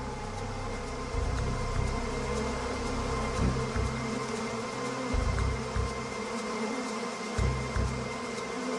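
Honeybees swarm inside a hive built from beeswax, their dense buzzing drone running steadily throughout with slight swells in loudness and no voices.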